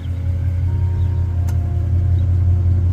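A 2013–2014 Ford Mustang 5.0 V8 idles at a car meet with a steady, deep low rumble that holds even and loud throughout, with no voices over it.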